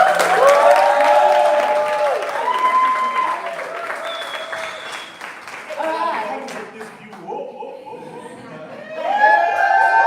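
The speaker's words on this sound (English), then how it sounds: "Please, can you give Offense a round of applause?" An audience at a YouTube Shorts community summit claps and cheers in a sustained burst that fades and swells again, with chatter and light laughter mixed in.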